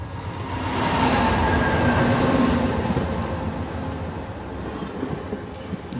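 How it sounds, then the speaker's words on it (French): A train pulls out of the station at Douai with a loud, steady rumble of rolling wheels and rail clatter that swells and then holds, and no voices are heard. "le train quitte la gare de Douai"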